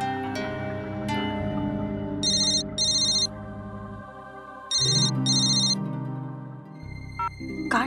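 A mobile phone rings with a bright electronic tone in repeated paired bursts over a melodic music bed, ending near the close.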